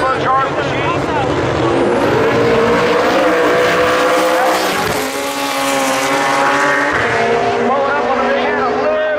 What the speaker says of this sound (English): here comes all the RPMs on the turbocharged machine